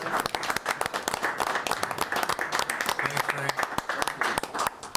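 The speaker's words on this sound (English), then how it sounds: "I would like to offer a round of applause" Attendees at a village board meeting applaud a retiring official, with many hands clapping in a thick, sustained patter that stays fairly loud and even from start to finish.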